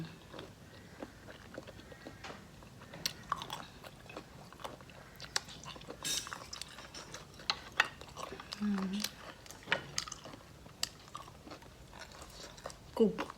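Golden apple snails, dried and served with a spicy dipping sauce, crunched between the teeth in a steady run of crisp bites and chews close to the mic, with faint background sounds in between.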